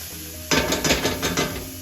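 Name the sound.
onions being stirred and sizzling in a skillet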